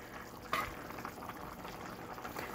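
Water simmering in a pot of chicken with rice (arroz con pollo), a soft continuous bubbling hiss at low level with a small splash near the start.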